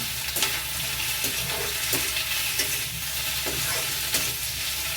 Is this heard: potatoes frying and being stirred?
yes